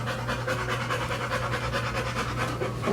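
A dog named Diesel pants steadily and rapidly at close range, a continuous rhythmic huffing with no voices over it.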